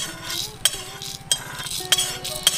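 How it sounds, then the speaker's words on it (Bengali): Fried spices, including dried red chillies, tipped from a pan into a mortar and pestle in a home kitchen: sharp metallic clinks and scraping stand out over a steady sizzle and faint rattling, with no talk. "এবার এই হামালদিস্তাটার মধ্যে ঢেলে নিচ্ছি"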